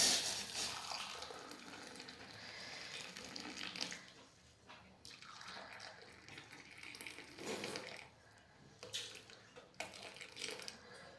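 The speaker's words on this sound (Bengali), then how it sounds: "এই তোমার গরম জল দিয়ে দিলাম।" Boiled hot water poured from a kettle into a cup in a home kitchen, a gentle gurgling stream with a few splashy surges and brief pauses, close but soft, with no talking.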